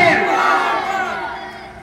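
A large crowd at a religious gathering roars a unison chant in answer to a Takbir call, loud and sustained, swelling at first and then slowly tapering off.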